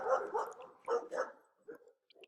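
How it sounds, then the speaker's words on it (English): A neighbor's dog barks somewhere nearby, giving several quick barks in two short bursts with brief pauses, moderately faint and heard on its own. "she hears one of her neighbor dogs barking"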